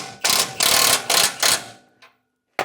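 A wrench ratchets in four quick close bursts as a bolt on a flat-tow base plate is snugged down, each burst a dense metallic clicking, followed by a short pause and one more brief click.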